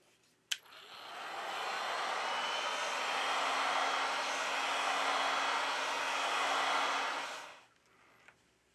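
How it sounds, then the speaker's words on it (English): Heat gun blowing hot air onto the back cover of a Xiaomi Redmi 7 phone, a steady loud broadband roar starting with a click and holding for about seven seconds before cutting off. "With the help of a heat gun, we apply 90 Celsius degrees during 4 minutes."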